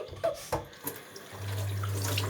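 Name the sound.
pouring lemon juice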